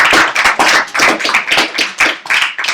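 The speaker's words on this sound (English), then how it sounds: "We already clapped you." Live audience at an afternoon talk event in Belgium clapping steadily for nearly three seconds, a dense, close, fairly loud patter of many hands with no voices.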